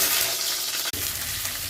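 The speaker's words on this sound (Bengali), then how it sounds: "আলুটা ভাজা হয়ে গেছে" Potatoes frying in hot oil, a loud, dense, close sizzle heard briefly with a short break in the middle.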